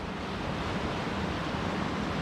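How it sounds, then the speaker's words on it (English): Water gushing with great force out of a drainage pipe set into a deep, wild spot in the Scottish wilderness, a steady dense roar of rushing water close to the microphone with no let-up. "the water's coming out of it there with incredible force"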